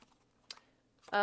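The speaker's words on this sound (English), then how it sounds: "Cards falling everywhere." Playing cards slap and flutter as they fall during a tarot-style reading, a couple of brief close clicks followed by a louder burst of rustling handling, with a voice nearby.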